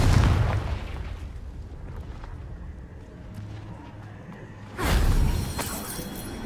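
A Confringo blasting curse explodes in Hogwarts Legacy with a heavy, booming blast at the start that rumbles and fades, followed by a second loud burst near the end.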